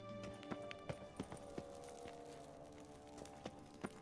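Horse hooves in The Witcher 3 clip-clop in a steady series of sharp knocks at a walking pace over a droning game soundtrack.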